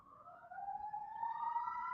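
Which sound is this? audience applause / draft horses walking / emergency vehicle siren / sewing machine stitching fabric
emergency vehicle siren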